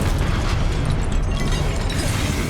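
A Confringo spell explodes in the Hogwarts Legacy video game, a loud, dense blast that roars steadily throughout with crackling and rumbling debris and no pause.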